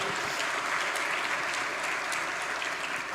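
A church congregation breaks into sustained applause during a sermon, a dense, continuous wash of many hands clapping at an even level throughout.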